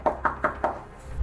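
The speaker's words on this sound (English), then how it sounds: "how would you know we're knocking on the door?" Four evenly spaced knocks on a door, firm and fairly close, followed by a short quiet stretch with low background rumble.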